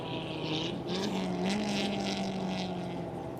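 TVS RR 310 single-cylinder race motorcycles, modified for the track, on a warm-up lap at turn 5 of a one-make race, with a steady engine drone that holds loud throughout and a rising, sustained pitch as bikes pass.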